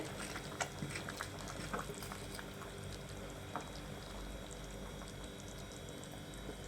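Dry fish curry simmers in a pot, a soft, steady bubbling with small scattered pops and gurgles, faint and close with no talking.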